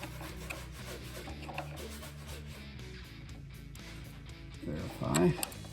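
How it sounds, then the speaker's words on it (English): A screwdriver works a screw on a 1931 Ford Model A, making close scraping and rubbing sounds with a louder grinding burst near the end, while someone talks. "I'm going to tighten the screw down. I'm going to use this screwdriver to hold it."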